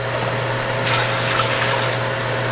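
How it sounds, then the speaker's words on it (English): Water poured into a pot of chow chow relish, a brief steady gushing stream that swells partway through over a constant low hum. "and then 2 cups of water"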